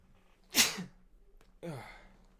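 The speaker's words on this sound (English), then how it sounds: "Oh man, I gotta sneeze." Two sharp human sneezes, one after another with a short pause between, close and fairly loud in a quiet room.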